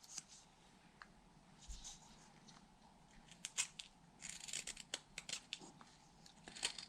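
A whittling knife takes the sharp edges off a carved wooden whale tail with gentle push cuts, giving quiet, scattered scraping shaves that come in short bursts and cluster more densely toward the end, with no talking.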